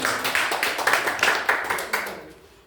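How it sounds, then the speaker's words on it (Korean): Audience at a Korean business seminar claps together, a dense, bright burst of applause with a steady rhythmic pulse that tapers off near the end. "박수 한번 주세요"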